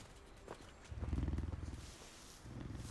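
Cats give a low, rumbling purr-like growl that swells in rhythmic pulses for about a second, then fades and returns more softly near the end against a quiet background.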